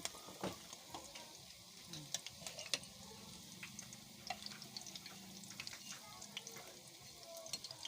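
Oil sizzles and crackles in a pan while fish paste for bagoong fries crisp with an egg added, a soft continuous frying hiss with scattered pops and stirring clinks, fairly faint and close.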